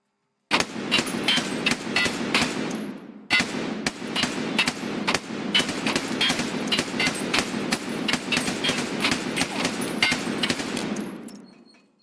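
Rapid bursts of assault rifle fire in Escape From Tarkov, a long run of close, loud, evenly spaced shots with a brief pause near the start before the automatic fire resumes and trails off.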